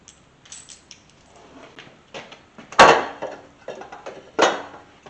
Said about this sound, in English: Just pulling my bolts out of my front pulley